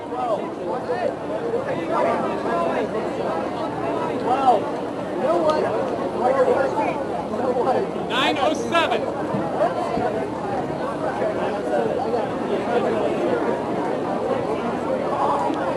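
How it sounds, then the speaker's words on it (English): Crowd chatter and babble at a basketball game picked up by a microphone up in the press box, a steady, dense hubbub of many voices from a distance with no single voice standing out, holding at an even level throughout. "as you can hear from our crowd mic upstairs on the press box"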